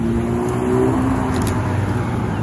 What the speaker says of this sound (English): Oh, Ferrari FF.